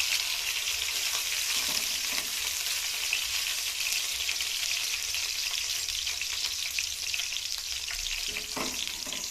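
Food frying in a pan until golden brown gives a steady, loud sizzle that crackles continuously throughout, with no voices.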